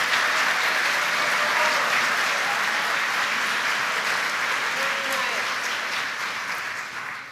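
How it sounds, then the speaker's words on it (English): An audience at a middle school awards day applauds for students receiving honors, a steady, somewhat distant wash of clapping that slowly fades. "if everybody could give these students a round of applause"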